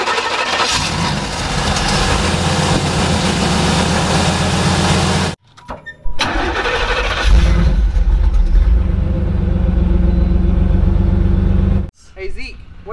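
A 1987 Trans Am race car engine cranks and catches with a loud, close rumble, then idles. It cuts out briefly and fires up again, running rough and strong before stopping.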